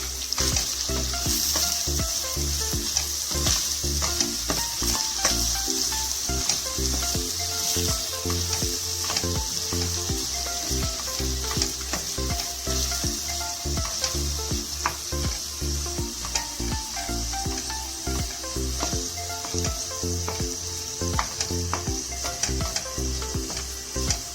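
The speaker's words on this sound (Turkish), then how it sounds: "Soğanımı ilave ettim. onu kavuracağım." Onions sauté in a pan for a green bean dish, a steady sizzle broken by rhythmic scraping as a utensil stirs them throughout, with no voices.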